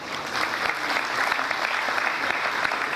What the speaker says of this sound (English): I think the House should applaud the organizers for recognizing such entrepreneurs